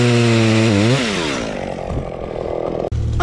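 A chainsaw whines loudly close by, its pitch dropping as it bites into wood, then fading into rough rasping cutting noise.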